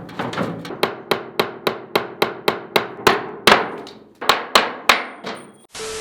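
Steady hammer blows drive nails into an old wooden table, about fifteen sharp strikes in a quick, even rhythm with a few pauses, close and loud, with no talking.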